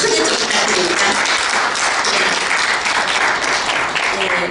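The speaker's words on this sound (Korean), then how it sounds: "감사의 박수 꼭 좀 크게 좀 부탁드립니다" Loud, sustained applause of thanks from a policy forum audience on children with disabilities and arts, dense clapping filling the room steadily from start to finish.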